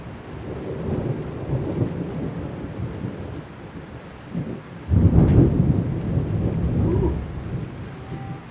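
Thunder in a thunderstorm with rain, deep rolling rumbles that build, fade, then break into a louder, nearer crack and long roll about midway, rain hissing underneath.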